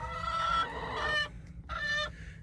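Chickens cluck nearby in a coop, a hen in her nesting box trying to lay, with short bursts of clucking separated by a brief pause over a low background hum.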